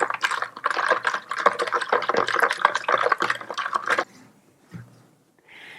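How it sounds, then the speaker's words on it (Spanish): A wire whisk stirs wet bread dough ingredients with a few drops of rum essence in a bowl, making dense, rapid rhythmic clicking and sloshing for about four seconds, then stopping and leaving only faint brief handling sounds. "Con ayuda de una varilla removemos todo muy bien"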